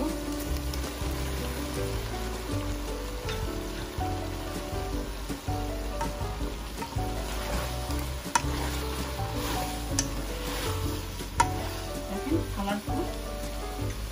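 Capsicum frying with parboiled potatoes in a pan, a steady sizzle with stirring clatter running throughout and occasional scrapes and taps, close and continuous, with some talk over it.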